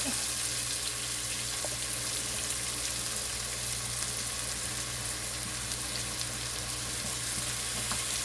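Garlic sizzles and fries steadily in a hot pan for tortang talong, a continuous dense crackle at close range with no talking.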